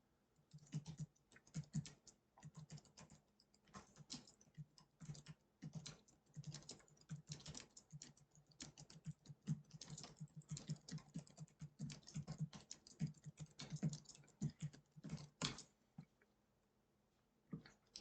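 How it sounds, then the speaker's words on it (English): Fingers type rapidly on a computer keyboard, a continuous patter of quick, close key clicks with short pauses between bursts. "So then you just have to type it in."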